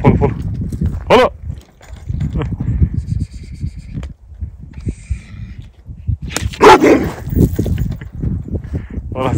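A flock-guarding dog barks a few times close by, sharp bursts scattered among rustling, movement and a person talking.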